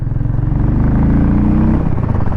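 A 2024 Harley-Davidson X440 being ridden hard, its engine giving a loud continuous throbbing rumble with a rising tone as it pulls, close and without speech.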